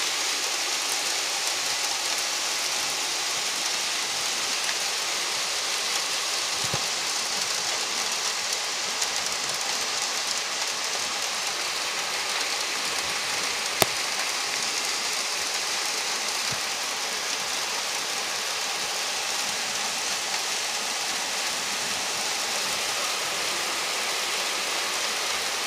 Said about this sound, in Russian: Град!